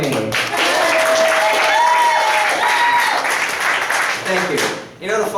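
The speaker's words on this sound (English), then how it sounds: "Clap for me." Audience claps and cheers for a middle school graduate at a summer camp showcase in Times Square, with loud, dense applause and whoops that stay steady for several seconds before a voice begins talking near the end.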